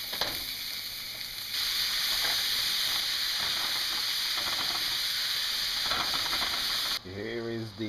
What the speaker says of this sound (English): I browned the ground beef and the sausage.